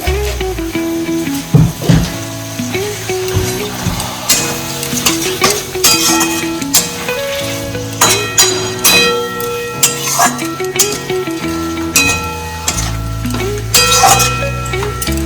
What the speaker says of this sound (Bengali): গ্যাসটাকে একটু বাড়িয়ে নিয়ে নেড়ে টেড়ে নেবো।